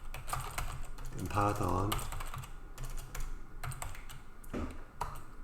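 Rapid clicking keystrokes on a computer keyboard come in quick bursts and pauses, close and clear, with someone talking over and between the typing.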